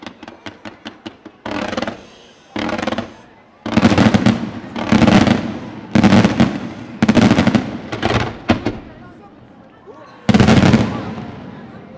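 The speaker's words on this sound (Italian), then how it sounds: "lo spettacolo pirotecnico dei già campioni del mondo di fuochi artificiali" Fireworks display by Vip Vaccalluzzo at Monte di Procida in 2022: a quick run of small crackling pops, then repeated loud broad booming bursts in clustered volleys, with a voice faintly talking underneath.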